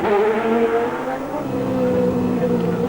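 Formula 1 race cars at the 1989 Monaco Grand Prix scream past in a sustained, loud high-pitched engine whine, with a tone that slides in pitch as the cars pass. Faint crowd or commentary noise sits underneath.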